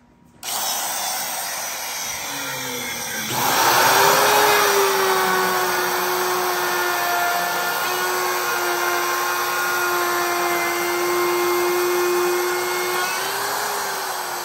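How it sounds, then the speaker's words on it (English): Hand router cutting a dado in a wooden test piece: the motor starts with a sudden high whine, rises in pitch and loudness after a few seconds, then holds a steady loud drone throughout as the bit moves through the wood. "I'm testing the depth of the router bit or how much wood's remaining after I cut the dado."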